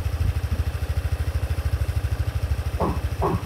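A single-cylinder Honda Forza 250 scooter from 2019 with its stock exhaust runs steadily nearby, a low rhythmic engine pulse, with two brief bursts of sound near the end.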